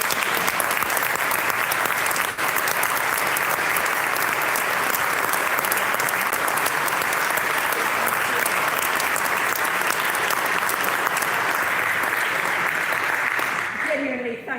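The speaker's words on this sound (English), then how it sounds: "Ladies and gentlemen, may I invite you to give a round of applause to all of our candidates." At an Altrincham election hustings, the audience gives all the candidates long, even applause, a thick wash of clapping that holds steady before tapering off at the very end.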